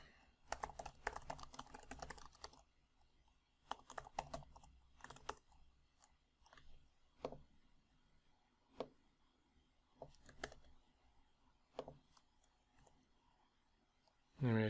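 Computer keyboard keys clatter in quick bursts and scattered single taps as code is written, close and fairly quiet, with pauses between flurries.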